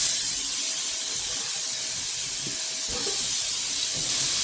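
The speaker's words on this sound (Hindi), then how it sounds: "अब हम इसमें डाल देंगे ये ग्रेट किया हुआ पपीता" Grated papaya hitting a hot pan gives a broad, continuous hiss that holds steady throughout, with faint clinks underneath and no talking.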